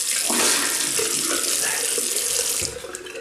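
A bathroom tap runs in a steady, close rush of water while someone rinses off after a shave, then the flow cuts back near the end.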